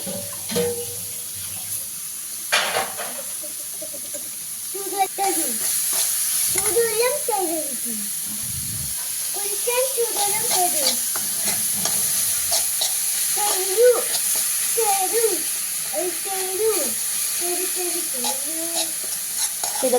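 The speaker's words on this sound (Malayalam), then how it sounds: "ഇതിലേക്ക് മുഴുവൻ ഇട്ട് കൊടുക്കാം. നമുക്ക് നന്നായിട്ടൊന്ന് ഇളക്കണം." Grated carrot gets stirred in a frying pan in a home kitchen, with soft sizzling and repeated scraping stirs over a steady background, and a voice talking at times.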